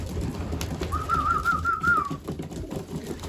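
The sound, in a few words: racing pigeons cooing in loft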